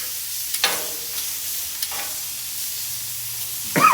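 Blackened shrimp sizzling on a hot grill surface, a steady close hiss of frying with a few louder sputters and a sharp scrape near the end, alone.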